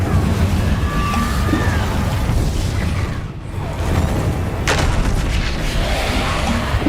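Incendio fire spell cast in Hogwarts Legacy, a loud dense roaring burst of fiery crackle and booming impacts filling the whole stretch, with a brief dip and a sharp flare near the end.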